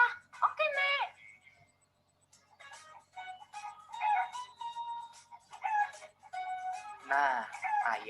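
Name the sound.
chicken clucking and crowing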